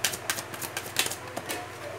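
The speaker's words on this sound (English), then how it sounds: "Kuha pa ako ng isang card." Tarot cards drawn and handled from a deck make a quick series of soft, close clicks and papery snaps, irregular and fairly quiet, with no voice over them.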